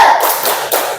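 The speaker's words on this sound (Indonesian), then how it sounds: "Tepuk semangat." A classroom of students claps in a short, sharp rhythmic pattern for a teacher-led ice-breaker cheer, with two crisp bursts of hand claps close by.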